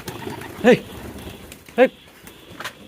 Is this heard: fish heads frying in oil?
no